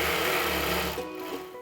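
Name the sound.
sewing machine quilting a T-shirt pillow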